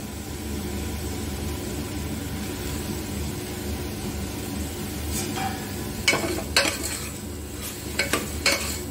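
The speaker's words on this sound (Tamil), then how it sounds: "அதோட நல்லா வதக்கி விட்டுக்கலாம்." Broad beans sauté in a pan for sambar, a soft continuous sizzle joined near the end by a few sharp scraping and clinking strokes of a stirring utensil.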